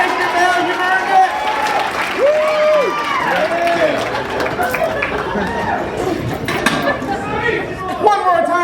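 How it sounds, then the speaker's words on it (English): An audience at a puppet slam claps and cheers in a dense, steady roar, with shouts and whoops rising above it and a host's voice calling out through the noise. "Right now, give him a standing ovation."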